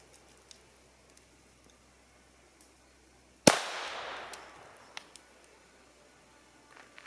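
A single sharp shot from a Taurus TX22 pistol firing cheap bulk ammo cracks out loudly once, trailed by a fading echo, with a few faint clicks before and after.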